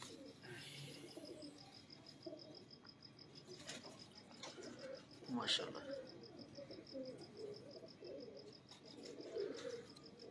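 A Jaunsira pigeon coos softly in the background with birds chirping around it, while people talk close by throughout.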